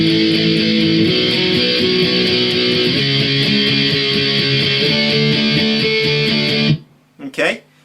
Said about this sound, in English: we're not going to palm mute this, so it'll sound like this then